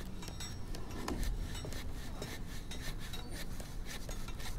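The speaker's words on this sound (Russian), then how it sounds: "Кто-то дерево пилит?" Faint rasping strokes of wood being sawed in the video game Amnesia repeat in a quick back-and-forth rhythm, quiet and somewhat distant.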